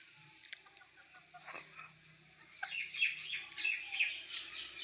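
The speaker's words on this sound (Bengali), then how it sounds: "দেখুন বন্ধুরা, মুরগিগুলো রেখে দিয়েছি পাকা পেঁপে কি করে খাচ্ছে।" Chickens cluck and chirp softly while pecking at ripe papaya, a few scattered close calls and pecking sounds at low volume.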